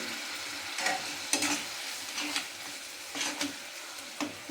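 Ginger paste, salt and tomato fry in a pan with a continuous sizzle, broken by about five short bursts of stirring scrapes.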